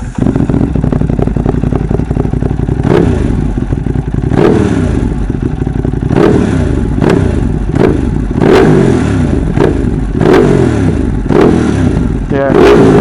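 A motorcycle engine revs hard, its exhaust popping and crackling loudly and up close, with a steady droning idle and repeated sharp bangs spread through the whole stretch.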